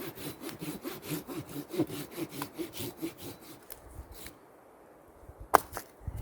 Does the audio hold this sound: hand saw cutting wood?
yes